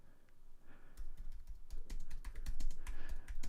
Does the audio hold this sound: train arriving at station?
no